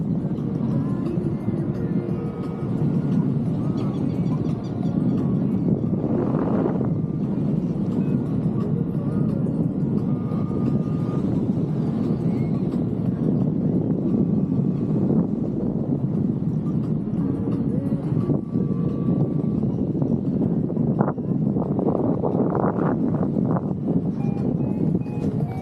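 Strong, steady wind rushes and buffets throughout while a paraglider comes in to land in turbulent, gusty air, a constant broad roar with occasional louder gusts and no talk.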